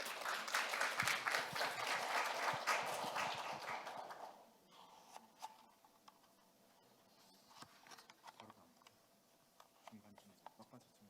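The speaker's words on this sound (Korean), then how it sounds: "큰 박수로 환영해 주시기 바랍니다" Audience applause welcoming presenters at a data-analysis competition results ceremony in Korea, a full burst of clapping for about four seconds that fades out, leaving a quiet room with scattered faint knocks and rustles.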